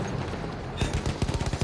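Gunfire in the video game Battlefield 1 crackles through a busy battle din, with a burst of rapid, repeated shots in the second half, moderately loud.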